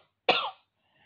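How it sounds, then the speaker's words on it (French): A single short, sharp cough from a woman recovering from illness, close and clear, alone in an otherwise quiet room. "J'ai très envie de tousser."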